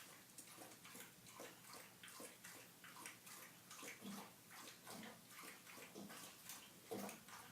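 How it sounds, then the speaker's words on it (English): Rhythmic wet lapping and sloshing as a dog drinks water, close and quiet, repeating in quick even strokes throughout. "My dog is drinking water."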